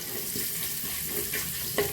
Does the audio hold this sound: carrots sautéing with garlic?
yes